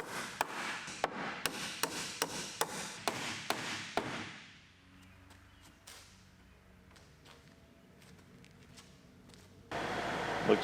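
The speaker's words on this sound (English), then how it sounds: "Hammer that one in there." Hammer blows drive a wooden leg into place during a shop rebuild, about a dozen sharp, evenly spaced strikes close by over four seconds, then a quiet workshop with faint creaks and a burst of noise at the end.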